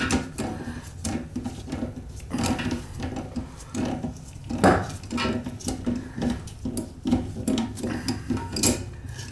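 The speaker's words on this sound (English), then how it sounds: "Tighten this up." A brass toilet supply fitting being tightened under a slowly filling toilet: close, irregular metallic clanks, clicks and scraping keep going without pause, with no talking.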